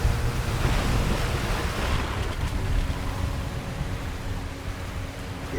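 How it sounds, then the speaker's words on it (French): Storm weather in the video game Submerged: Hidden Depths: a dense, steady roar of wind and rushing water, like heavy surf and rain battering the scene, loud and continuous with no voices. "je vois rien, il pleut. Ils m'ont mis en pleine tempête"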